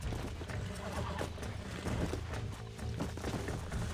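A horse neighs and whinnies in the western game Red Dead Redemption, a loud close call over continuous hoof clatter and game noise, with no talking.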